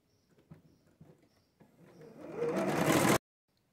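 A sewing machine stitches a patchwork star, a few soft taps at first, then a steady running whir that builds louder for about a second and a half before stopping abruptly, with nothing else heard.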